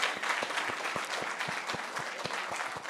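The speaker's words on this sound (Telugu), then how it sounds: "సో ప్లీజ్ అందరు ఒక్కసారి వీళ్ళందరూ క్లాప్స్ అండి." An audience claps at a film success meet for the movie Naa Saami Ranga, a steady, evenly paced applause at moderate distance that carries on throughout without talk.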